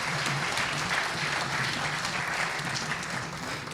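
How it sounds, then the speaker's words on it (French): An audience applauding panel members at a plenary session, a steady, dense wash of clapping from many hands that holds at an even level throughout. "On peut les applaudir, oui."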